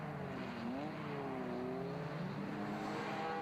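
BMW E30 race cars racing as a pack toward a corner at the Taupo circuit, engines droning steadily with slowly shifting pitch, moderately loud and continuous, no voices.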